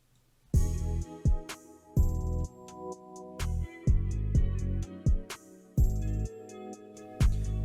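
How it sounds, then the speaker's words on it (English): A programmed R&B beat plays its verse drums, with a new kick and snare in punchy, boomy hits, some separated by short gaps, under sparse bright percussion. "the drums in the verse with this kick and snare sound like this"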